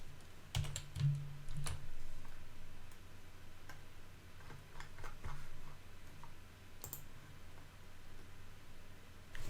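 Fingers tapping steadily on a computer keyboard, a run of quick, light clicks with brief pauses, close by over a low background hum.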